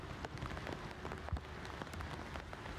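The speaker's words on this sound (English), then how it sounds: "The rain picking up pace." Rain falls during the Beating Retreat ceremony at the Republic Day celebrations, a soft steady patter of drops on surfaces with scattered faint taps, heard distantly and quietly.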